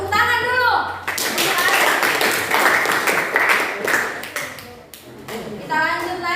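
A mathematics class breaking into a short burst of hand clapping, dense and lively for several seconds before tapering off, with a teacher's voice speaking just before and after.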